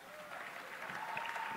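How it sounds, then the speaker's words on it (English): An audience claps at a spoken-word stage performance, a steady wash of applause that swells slightly, with a voice faintly under it. "Yep, clap it up."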